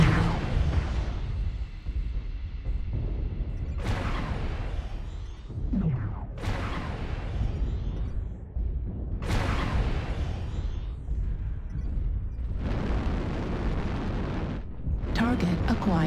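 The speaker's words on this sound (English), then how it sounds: "Artillery strike activated." In a video game, artillery strike explosions land one after another as several deep booming blasts with swooshing rushes between them, loud and close, under game music.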